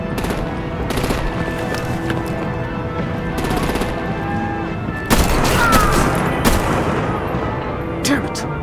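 Distant artillery and gunfire in a Batman The Telltale Series battle scene, with repeated rattling bursts and heavier booms over a steady background of music and effects, growing louder toward the middle.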